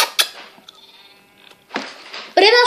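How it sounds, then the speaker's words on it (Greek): Minecraft sheep bleating, several wavering game bleats with the loudest one at the end, heard over quiet background and brief sounds in between. "Πρέπει να σκοτώσω το άσπρο σιπ."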